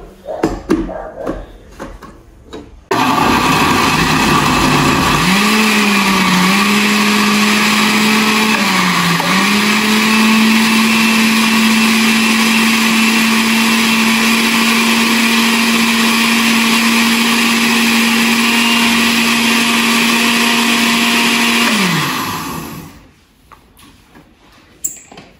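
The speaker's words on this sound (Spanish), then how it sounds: "aquí en nuestra licuadora. Aquí también tenemos la sal de grano que no le mencioné, amiguitos. Aquí vamos a licuar esto." A kitchen blender liquefies a mixiote chicken marinade with coarse salt, its motor roaring loud and steady for about twenty seconds with slight pitch dips as the load shifts, then winding down.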